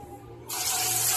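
Sudden loud sizzle as kanangatha fish hits hot oil in a pan, a broad hissing crackle that jumps in after a quieter moment and keeps going steadily.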